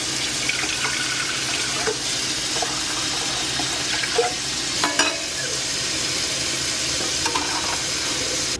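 Water runs and splashes close by as a steam coffee brewer is filled, a steady hiss with a few small clunks and knocks along the way, no voices.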